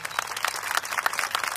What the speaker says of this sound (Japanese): 盛大な拍手をお願いします。